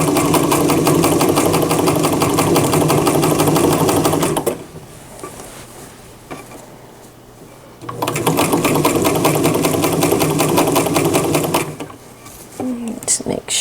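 A sewing machine stitches a seam on a lined sheath dress of Linton tweed. Two bursts of fast, steady, close-up whirring stitching are separated by a quieter pause, and the second burst is followed by brief handling noises.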